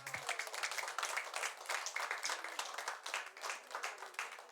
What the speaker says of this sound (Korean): 위로의 박수, 격려의 박수 하겠습니다.